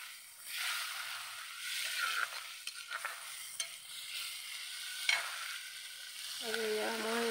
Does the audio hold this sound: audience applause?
no